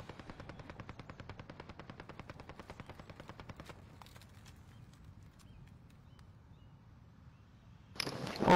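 Rapid bursts of automatic gunfire in the Warzone video game rattle steadily for several seconds, then stop, leaving quieter background ambience before a louder burst of noise at the end.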